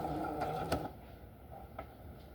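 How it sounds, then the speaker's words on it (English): A sewing machine stitches across the hem of a linen underskirt for a 1950s dress in one short, close burst of under a second, then falls quiet. "And put that presser foot back down. I'm going to sew across."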